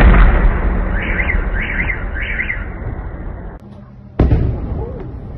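Explosions during an air defense attack, recorded by residents: a loud, continuous roaring rumble with faint wailing alarm tones, a sudden drop, then a sharp blast near the end.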